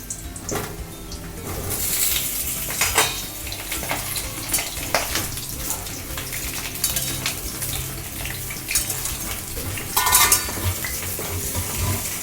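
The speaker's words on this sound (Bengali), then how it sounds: "সর্ষের তেল দিয়ে আমি আগে আলু ভেজে নেব" Potatoes fry in mustard oil in a pan, a steady close sizzle running throughout with scraping stirs and clinks of a utensil against the metal, sharpest bursts near the start and around ten seconds; no one speaks.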